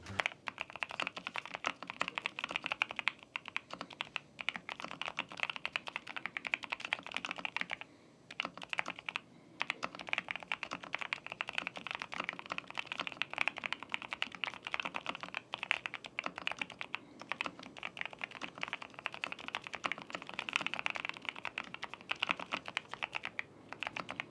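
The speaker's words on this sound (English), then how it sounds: "how the silence keyboard is sound?" Continuous, rapid typing on a Royal Kludge R65 wireless silent mechanical keyboard with soft, muted keystrokes, steady and fairly quiet throughout.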